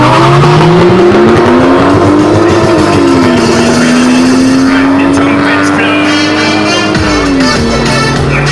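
Toyota Supra and Toyota Chaser launching side by side in a drag race, loud engines revving and climbing through gears with tire squeal, a crowd and commentator talking over the roar.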